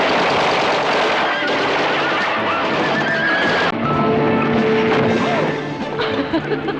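In a Western film scene, horses neigh and whinny frantically as gunshots ring out, with hooves clattering, all loud and dense throughout, with some voices mixed in.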